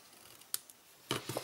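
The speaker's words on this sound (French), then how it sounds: "je viens couper en biseau" Scissors cut small pieces of material on a bevel in a craft workshop, giving a single crisp snip followed by a quick cluster of close, quiet snipping clicks.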